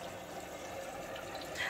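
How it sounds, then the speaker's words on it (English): Water pours into the drum of an LG F4V310SNEH 10.5kg direct drive washing machine, a faint, steady, close trickling and rushing with no talking. "So this pours the water out into the machine."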